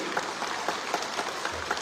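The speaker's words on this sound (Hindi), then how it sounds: "ये करने से भी ताली होता है, ये करने से भी आवाज आता है" Applause from an audience at a speech in an auditorium, a dense patter of many clapping hands at moderate distance, steady throughout with a few slightly louder claps.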